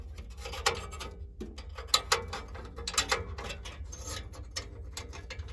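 A screw is driven into a Lennox furnace panel, making a string of small metallic clicks and ratcheting ticks at close range, irregular and fairly quiet, with no talking.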